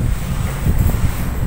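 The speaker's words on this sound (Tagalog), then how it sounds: "May hangin naman pala." Wind gusting across an open 7th-floor condo balcony in Manila, a steady low rumble of wind buffeting the microphone with no voices.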